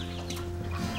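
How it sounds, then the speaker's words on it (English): A hen clucks softly beside her chick, a short burst of close, low calls with no talk. "Like the chicken with her chick."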